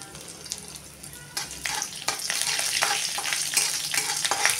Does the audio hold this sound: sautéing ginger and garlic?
yes